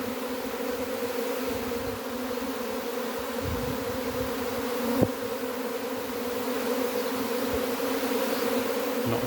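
A large swarm of some 20,000 to 30,000 honeybees crowding into the hive entrance in a forest garden gives a steady, dense buzzing drone that holds close and even throughout, with one brief knock partway through.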